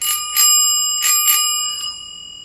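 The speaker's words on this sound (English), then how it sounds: "this is a bike bell" A bicycle bell rings out in quick pairs of bright metallic dings, close and loud, with each strike leaving a long, clear ringing tail that slowly fades.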